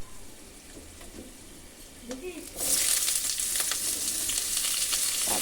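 Chopped garlic and green chili tipped into hot oil in a pan, bursting into a loud, bright sizzle partway through that stays strong and steady after a few quiet stirring sounds.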